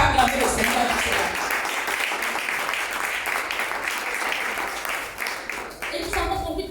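A church congregation bursts into sustained applause to acclaim the Lord during a sermon, dense clapping throughout with voices mixed in.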